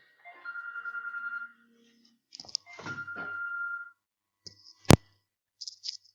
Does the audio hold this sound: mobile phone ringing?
yes